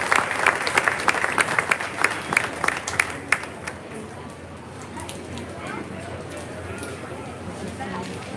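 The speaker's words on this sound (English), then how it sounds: "a nice big round of applause by you and the crowd" Crowd at a junior fair swine show claps in a burst of applause, brisk and fairly close for about three seconds, then fading into a softer murmuring arena background.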